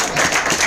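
An audience at a seminar claps for the speaker's upline, a brief burst of dense, close, continuous applause with no voices over it.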